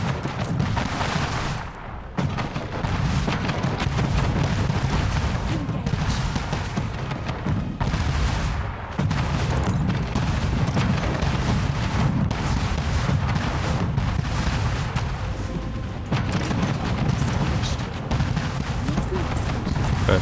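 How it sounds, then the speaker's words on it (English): Ship cannon fire and explosions in the Anno 1800 naval battle, a continuous barrage of booming shots and blasts rolling on for about twenty seconds, with brief dips between volleys. "Maybe we shot the cannons instead of the fucking small oil harbor"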